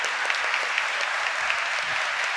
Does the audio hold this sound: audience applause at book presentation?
yes